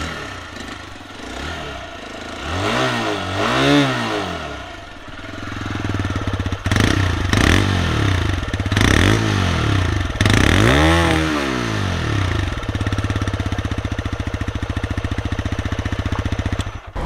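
A 2025 TVS Raider 125 iGO 125cc motorcycle starting up and idling, then revved several times in quick rising and falling swells of exhaust note before settling back to a steady idle, loud and close with no speech.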